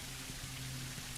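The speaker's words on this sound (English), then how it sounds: "you can stand under the rain and just feel good" Steady rain pours down in the Star Citizen game world, a dense, even hiss of falling water with a faint low hum beneath, constant and close throughout with no voices.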